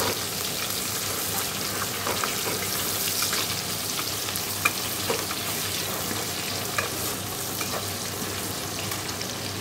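Chicken pieces and onions sizzle steadily in hot oil in a pan, a dense continuous frying hiss with occasional stirring clicks and pops, close and fairly loud, no voices.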